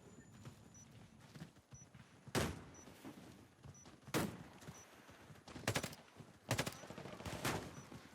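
Gunfire in the online shooter Warface: several sharp, loud single shots at irregular intervals, spaced a second or so apart, over low game ambience with no talking.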